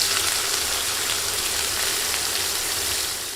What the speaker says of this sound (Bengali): পেঁয়াজ দিয়ে কিছুক্ষণ তেলে নেড়েচেড়ে ভেজে নিচ্ছি